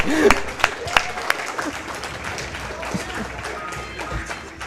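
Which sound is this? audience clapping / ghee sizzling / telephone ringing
audience clapping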